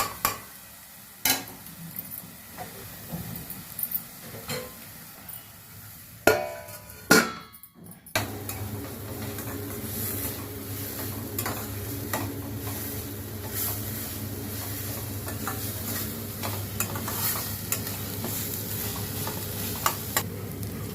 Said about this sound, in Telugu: బాగా వేగాలి. ఇది బాగా పచ్చివాసన పోయేంతవరకు వేపాలి.